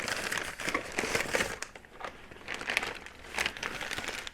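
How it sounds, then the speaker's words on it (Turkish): An empty plastic bag crinkles and rustles nearby, a steady crackly scrunching that swells and eases over a few seconds. "Şöyle boş bir poşet geldi."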